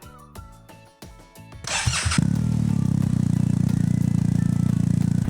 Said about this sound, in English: I think it's enough to power up the bike and maybe we can also start it.